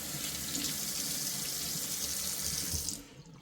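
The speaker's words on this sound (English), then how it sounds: "Give my hands another rinse." Tap water runs steadily into a sink as hands are rinsed beneath it, a close, continuous splashing hiss that cuts off near the end, with no talk.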